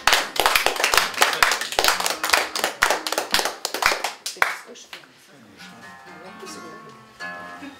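A crowd claps loudly and densely at an evening rock-and-roll jam session. The applause lasts about five seconds before giving way to quieter sustained tones.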